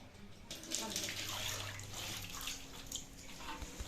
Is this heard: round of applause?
no